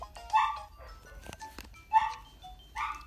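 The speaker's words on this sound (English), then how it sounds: "and my dog's in the background" A pet dog barks somewhere off in the room during a Tomodachi Life gaming session, giving three short bursts of yips spaced about a second apart, moderately loud with no talk over them.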